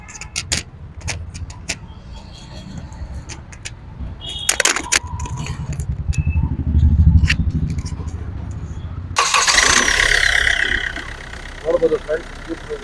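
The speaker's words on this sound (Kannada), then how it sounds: "ಇಂಜಿನ್ ಕೂಡ ಸ್ಟಾರ್ಟ್ ಮಾಡಿ ತೋರಿಸ್ತೀನಿ ನಿಮಗೆ ಇವಾಗ." A Hyundai Verna SX diesel engine cranks and fires up partway through, settling into a steady idle, with someone talking nearby and small clicks and key jingles before the start.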